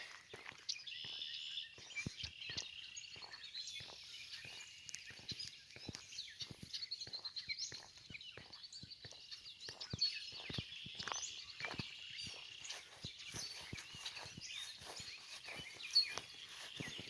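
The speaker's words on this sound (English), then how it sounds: "You can hear the birds getting ready to settle in for the night." Birds call at dusk on a summer evening among blooming elderberry, a busy chorus of chirps and trills at moderate distance, steady and fairly quiet, with scattered soft ticks and taps throughout and no talking.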